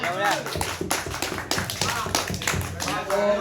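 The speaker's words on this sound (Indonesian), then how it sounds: "Kasih tepuk tangan buat Bapak Anang." A small group claps hands for a member at a casual technicians' study meeting, uneven loose claps close by, mixed with murmuring voices and chatter.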